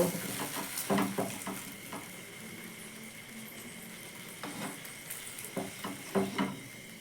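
Wheat-flour parathas fry in a little oil in a pan with a soft, continuous sizzle, broken by intermittent spatula taps and scrapes against the metal, close and fairly quiet.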